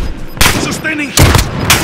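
Incoming gunfire in Call of Duty Modern Warfare: three loud, close bursts of sharp cracking shots separated by brief gaps over a noisy battlefield background.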